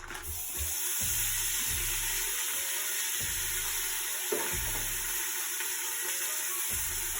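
Two pounds of ground beef hits a hot Instant Pot on sauté mode with no oil, sizzling and frying steadily, close by, while a spatula scrapes and stirs in occasional bumps and knocks.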